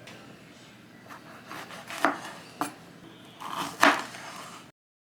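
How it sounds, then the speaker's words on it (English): A spoon scrapes and knocks against a halved jalapeno pepper on a board, giving a few sharp scooping clicks and taps in quick succession, close and fairly loud with little else around. "I use a spoon to scoop out my jalapeno seeds and it works perfectly"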